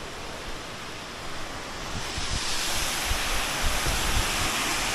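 A small waterfall in a nature setting, a broad continuous rush of falling water that swells slightly louder partway through and stays steady, close and without any speech.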